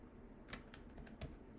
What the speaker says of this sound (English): Then I'm going to type again